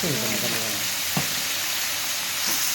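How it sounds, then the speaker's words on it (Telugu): Onion frying in oil with turmeric for a bitter gourd dish, a steady broadband sizzle throughout with a couple of faint stir clinks and a brief voice underneath. "బాగా నూనెలో ఫ్రై కావాలండి ఉల్లిగడ్డ"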